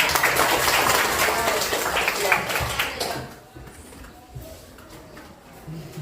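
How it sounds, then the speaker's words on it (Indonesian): A classroom of students clapping for about three seconds, then the applause fades into quieter background noise and faint voices. "Tepuk tangan."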